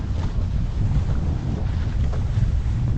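Strong wind buffets the microphone aboard a Hobie Cat 16 catamaran sailing in Western Port, a continuous loud roaring rumble with water wash beneath it.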